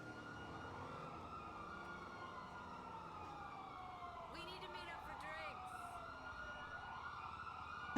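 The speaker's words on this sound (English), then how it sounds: "Sorry, sirens." Police sirens wailing in a NoPixel GTA roleplay game, sweeping tones rising and falling steadily over a busy background of game noise for the whole stretch, with short chirping bursts in the middle.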